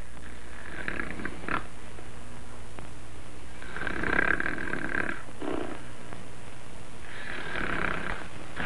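A man snoring loudly in a 1948 Mexican film: slow, rhythmic, rasping snores repeat about every three seconds over a constant hiss from the old soundtrack.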